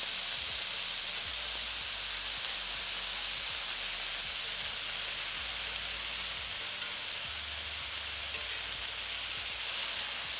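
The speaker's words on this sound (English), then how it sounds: "Using a cast iron skillet is best when it comes to steak bite. You're gonna get that nice sear on each of the steak bites." Steak bites searing in a cast iron skillet, a steady bright sizzle and hiss with occasional soft clinks and shifts, continuous and close with no talking.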